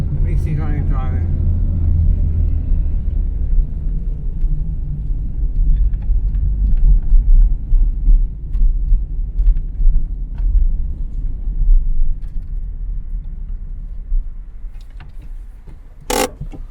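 A Renault 9 with clutch trouble running and driving, its engine giving a steady low rumble throughout as the car moves, with a sharp click or knock near the end.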